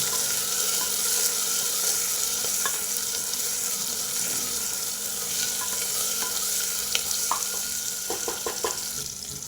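Onion and chopped tomato fry in a pan for bottle gourd sambar, giving a loud steady sizzle with scattered clicks and scrapes of stirring, especially near the end.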